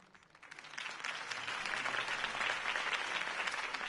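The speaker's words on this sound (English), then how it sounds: "If only Mr. Wayne, my campaign's largest backer, could have heard that applause" Crowd applause in the video game Telltale Batman swells from a light patter into a dense, steady wash of clapping that holds strong to the end.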